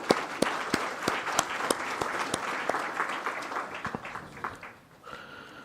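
An audience applauds a Ministry of Finance team at a Union Budget 2025-26 interactive session, with steady clapping and a few sharp near claps that thin out and fade toward the end.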